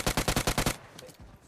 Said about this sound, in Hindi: आगे गोलियां काफी चल रही थी